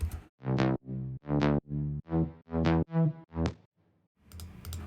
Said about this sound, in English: So I made this preset when I first downloaded Vital, and it sounds like this.